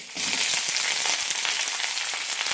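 Sliced onion hits a teaspoon of hot oil in a pan, bursting into a loud, steady, hissing sizzle that holds evenly throughout.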